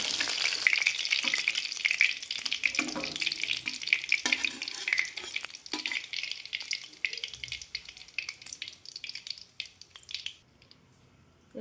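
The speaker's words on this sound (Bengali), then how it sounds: "এরকমভাবে সবগুলোই ভেজে নেব।" Chicken satay sizzles in frying oil, a busy close crackle mixed with stirring and scraping noises that thins out and fades near the end.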